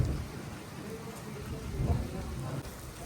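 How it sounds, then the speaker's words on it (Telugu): Rain falls steadily on a mountain ghat road in Himachal Pradesh, a soft diffuse hiss with low rumbling underneath, fairly faint and continuous throughout. "వర్షం అయితే అసలు అగ్గట్లేదు."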